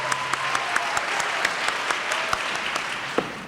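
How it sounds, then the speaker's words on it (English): A breakfast gathering's audience gives a round of applause, fairly moderate and steady, with a few sharper individual claps standing out near the listener. "Let's give them a round of applause."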